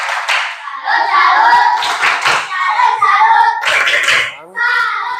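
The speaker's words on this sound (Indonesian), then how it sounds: "tepuk salut untuk Nesya, tepuk salut." A classroom of children claps together in rhythmic applause, with a clear patterned beat, close and loud, and children's voices mixed in.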